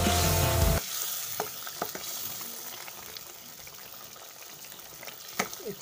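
Coriander leaf paste stirred into a simmering mixture in a cooking pan with brinjal: a brief loud burst at the start, then a soft steady bubbling sizzle with scattered spoon clicks and scrapes.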